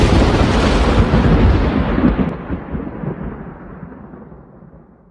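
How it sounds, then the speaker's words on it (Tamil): A loud, deep thunderclap rumbles and rolls for about five seconds, starting strong and slowly fading away as a dramatic storm sound effect. "இப்படி பயங்கரமாக ஒரு இடி சத்தம் கேட்டுச்சு"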